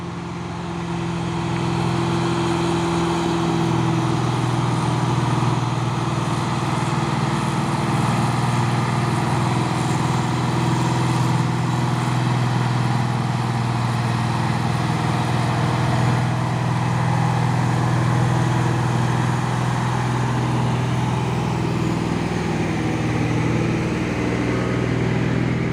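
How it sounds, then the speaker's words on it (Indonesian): Two heavy Puso trailer trucks labor up the Bukit Korok incline in the morning, a steady low engine drone holding strong and unbroken for the whole stretch, with no voices over it. "ada 2 unit truk trailer Puso melewati tanjakan Bukit Korok di pagi hari"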